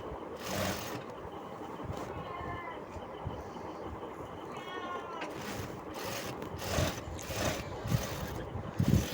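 A sewing machine stitching a blouse, with a steady mechanical whirring and rubbing drone running throughout and a few brief tonal whines and louder knocks toward the end. The machine is heard alone, at moderate volume.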